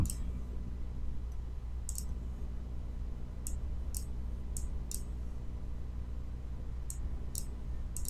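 Sharp, quiet mouse clicks while working in animation software, about a dozen separate clicks in small irregular groups over a steady low background hum, with no talking.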